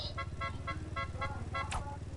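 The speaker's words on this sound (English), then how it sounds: "I'm gonna honk it till you come." Car horn honking in a video game, several short evenly spaced toots with a rising tone near the end, heard over a steady engine rumble and a low game soundtrack.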